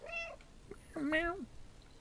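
A game cat in Stray meows twice, a short high mew followed by a longer, rising-then-falling cry, close and clear over a soft background hum.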